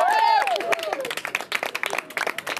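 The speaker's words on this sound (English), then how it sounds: "Give yourselves a round of applause." Audience applause for a high school lacrosse team on a local sports show, mixed clapping that starts under a brief musical sting and continues as scattered, uneven claps with some crowd noise.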